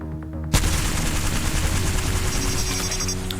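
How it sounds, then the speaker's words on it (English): Rapid, sustained automatic fire from the L-Star energy gun in Apex Legends starts abruptly and continues as a loud, dense stream of shots with no break. "First one is the L-Star."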